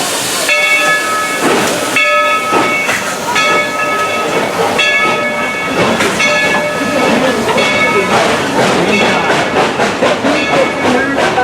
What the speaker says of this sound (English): With 2 toots of the whistle